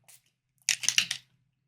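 Ink spray misted over a planner page with a stencil, heard as a quick cluster of four or five short hissing bursts, close and fairly quiet, after a faint earlier puff.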